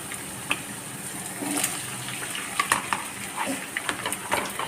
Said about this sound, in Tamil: நம்ம உருளைக்கிழங்கை இதில் கொஞ்சம் ஃப்ரை பண்ணிக்கிடுவோம்